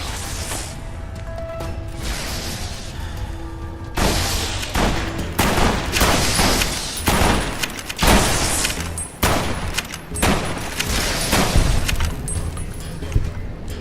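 Gunfire rattles through a firefight in Fallout: New Vegas, Lonesome Road, with loud, close bursts and sharp overlapping shots repeating in irregular volleys throughout.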